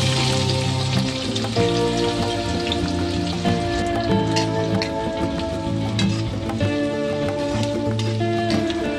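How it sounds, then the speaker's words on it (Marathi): Chopped onion dropped into hot oil with bay leaf and cinnamon for a Maharashtrian chicken liver and gizzard masala, sizzling steadily and loudly throughout, with background music playing over it. "तेजपत्ता, याला जरा तडका त्याच्यात कांदा सोडूया।"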